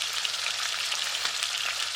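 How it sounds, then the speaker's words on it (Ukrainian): Steady, dense sizzling of pork belly frying in a hot pan, close and even throughout, with no voices. "Поки м'ясо шкварчить"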